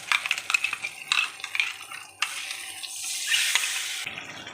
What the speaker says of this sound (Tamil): இதிலே அதை கழுவி விடணும்